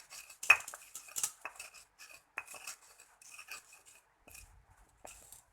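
A metal utensil scrapes and clinks against a bowl while sugar is stirred into food, a close run of irregular scratches and light taps.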